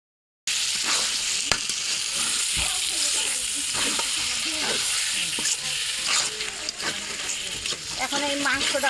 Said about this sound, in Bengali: এখন এই মাংসটা ভালো করে কষিয়ে নেব।